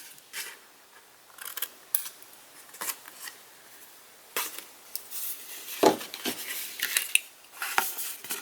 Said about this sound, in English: I'm going to miter these just a little bit so it's easy to fold.